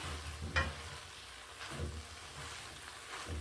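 Shredded cabbage is stirred in a hot pan, with a few soft scraping strokes and a faint sizzle at a close, quiet level.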